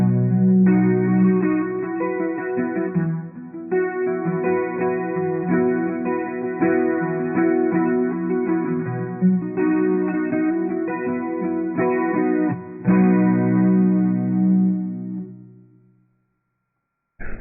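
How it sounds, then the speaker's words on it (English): Marshall AS50D electric guitar amp with reverb and chorus both on: electric guitar strummed in repeated chords, washed in lush reverb and a shimmering chorus, ringing for about sixteen seconds before fading out. "The only thing you haven't heard is with both the reverb and the chorus on at the same time"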